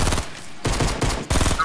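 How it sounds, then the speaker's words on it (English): Rapid bursts of automatic gunfire in the video game Fortnite, three loud back-to-back volleys of fast repeated shots filling the short stretch. "Somebody shooting at me, man."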